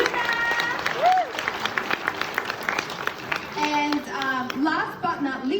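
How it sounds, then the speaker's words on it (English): A crowd applauds at the opening speech of a summer show-and-tell event, with steady clapping that carries under children's voices and speech throughout. "big round of applause to my husband and Yuna."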